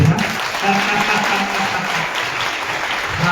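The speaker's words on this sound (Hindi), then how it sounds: "अभी तो जोर से ताली दे देना चाहिए था।" A church congregation at a Christmas meeting in Delhi claps loudly and steadily, a dense indoor applause filling the room for a few seconds.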